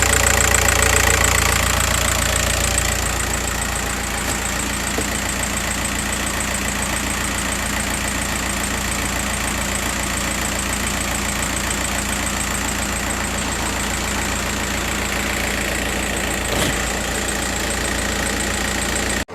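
A misfiring car engine idles steadily up close, with a faint irregular noise that fades out and returns over the running motor.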